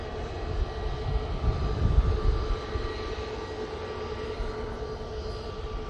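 A Jet2 passenger jet departing Manchester Airport for Skiathos, a steady engine roar with a low rumble swelling briefly and then holding, heard from some distance without talk.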